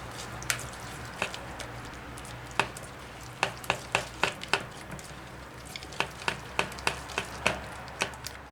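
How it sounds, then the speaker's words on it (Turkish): A sauce mixture for potatoes being stirred in a bowl, a steady soft wet background broken by many small irregular clicks and taps of the utensil against the sides, close and quiet, with no voices. "Bunu karıştırıyoruz."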